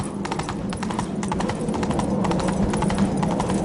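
Roach, the horse in The Witcher 3, gallops with a fast, steady clip-clop of hooves that stays even and close throughout, with no voices over it.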